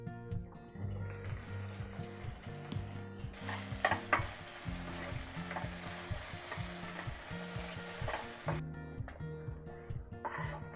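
Onion and tomato masala roasts in a pan for a prawn curry, a steady close sizzle and crackle with occasional stirring scrapes, under faint background music.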